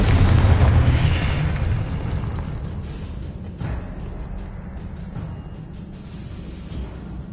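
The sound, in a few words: Confringo spell explosion in the Hogwarts Legacy video game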